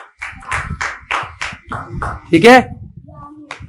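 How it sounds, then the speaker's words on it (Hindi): Children in a script-writing class clap for a classmate in a brisk run of rhythmic hand claps, close and loud, followed by a brief spoken voice. "भैया जी के लिए तालियां बजाओ"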